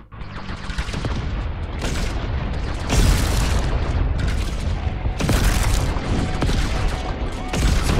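In the zombie survival game Yet Another Zombie Survivors, explosive arrows and an electric energy shield fire off nonstop, producing a dense, loud barrage of booming blasts and crackling bursts with heavier surges every couple of seconds.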